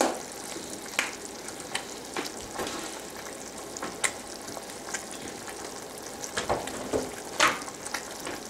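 A thick bee candy sugar mixture being stirred, giving soft scraping and crackling strokes with irregular louder knocks at close range and no voices.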